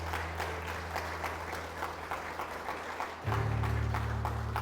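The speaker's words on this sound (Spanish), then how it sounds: "Vamos a aplaudir al Señor." Congregation applauding during a church service, a steady sheet of clapping with a rhythmic pulse and a low sustained hum underneath that swells louder partway through.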